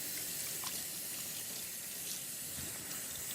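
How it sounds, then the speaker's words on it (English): Running tap water splashes steadily into a sink as hands are rinsed, a constant hissing gush at close range with no break. "let's rinse our hands real well"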